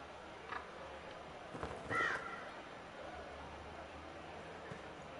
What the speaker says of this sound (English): Big hideous birds.